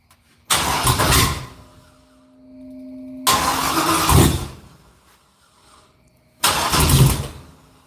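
Chevy S10 truck engine cranking in three loud bursts of a few seconds each, with brief starts and a low drone between them, trying to fire with the throttle untouched.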